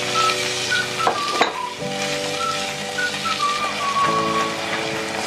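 Onion, garlic, tomato and peppers sizzle steadily in a pan, a dense crackle with a couple of sharp utensil knocks and a low background hum.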